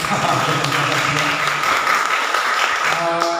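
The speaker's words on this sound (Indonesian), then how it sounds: "Boleh tepuk tangan dong untuk jemaatnya." Steady applause from a small church congregation fills the room continuously, with a voice speaking over it and a faint tonal hum underneath.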